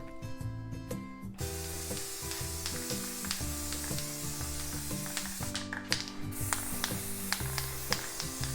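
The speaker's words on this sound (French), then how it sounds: "J'agite la bombe, je me place à environ 20 cm pour que le flocage ne craque pas et je bombe." A green food-colouring velvet spray can mists onto a Christmas roll cake filled with pistachio diplomat cream, giving a soft steady hiss alongside background music, with short gaps and a fresh burst near the end.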